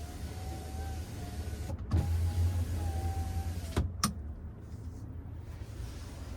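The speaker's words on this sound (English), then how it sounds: "And then here we have our universal home remote controls, dome lights, and then we also have our power rear window." Power rear window on a 2023 Chevrolet Silverado 1500 RST pickup whirring as its electric motor runs inside the cab, a steady motor hum that ends with a clunk as the glass stops.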